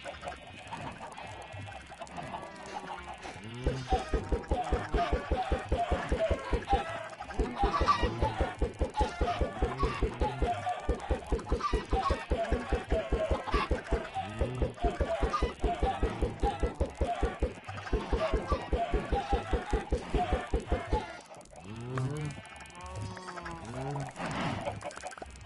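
Chickens packed into a Minecraft chicken farm cluck in rapid, overlapping bursts that run almost continuously for most of the stretch, loud and close, thinning out briefly near the end.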